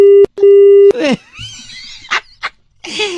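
Telephone tone after a prank call is hung up: a loud steady electronic beep sounds twice, then gives way to scattered bursts of noise and a voice.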